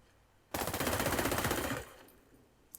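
An M4A1 rifle fires in the shooter game Ghost Recon Breakpoint, a single sustained burst of rapid automatic shots lasting over a second, close and sharp, followed by a faint trailing click.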